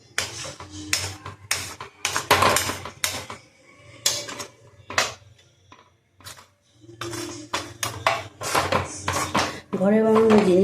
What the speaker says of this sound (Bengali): ছোটো চামচে ভালো করে এটাকে মিশিয়ে নিচ্ছি।